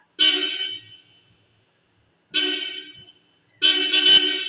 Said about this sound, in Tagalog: Busina.